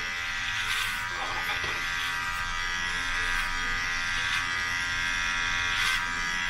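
Electric hair clipper with non-detachable guards buzzing during a self haircut at home, a steady moderate drone running continuously throughout without pauses or speech.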